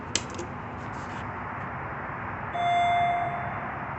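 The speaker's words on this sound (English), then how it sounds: "I want to hear this chime." An elevator chime at the Cal State LA Metrolink station in Los Angeles sounds as a single clear tone, heard close over steady background hum after a brief clank.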